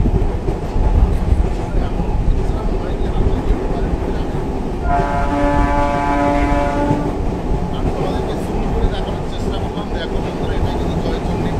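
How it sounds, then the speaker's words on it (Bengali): Passenger train rolling along a curved line approaching Adra Junction, with steady rumble of wheels and carriages throughout and a sustained horn blast sounding midway for a couple of seconds, voices faintly present. "আমাদের ট্রেন কার্ভ লাইনে আসছে আদ্রা জংশনের দিকে"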